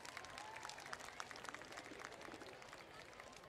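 Applause at a school musical concert, a dense, even patter of clapping from a large audience, heard faintly and from a distance throughout.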